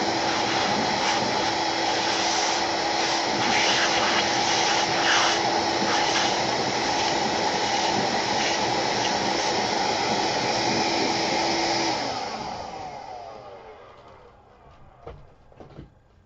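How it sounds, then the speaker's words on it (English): A vacuum cleaner roars steadily and loudly up close as it cleans the sticky wheel of a Logitech M500 mouse, then winds down and fades out near the end, with no talking. "So I'm just gonna vacuum pretty much like this."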